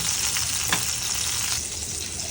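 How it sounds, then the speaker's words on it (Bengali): Tomato, onion, garlic and green chilli fry in mustard oil with a steady, close sizzle, a brief stirring scrape near the middle, and no voices. "সরিষার তেলের মধ্যে আমি টমেটো, পেঁয়াজ, রসুন আর কাঁচামরিচ দিয়ে একটু ভেজে নিব।"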